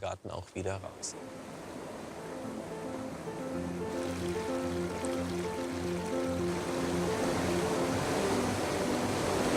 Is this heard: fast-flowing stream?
yes